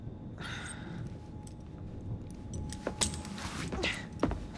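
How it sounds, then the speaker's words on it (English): Keys jangle as they are handed over in the Assassin's Creed Syndicate video game: a few quick metallic jingles and clinks late in the moment over a low, steady background hum. "Now hand over your keys."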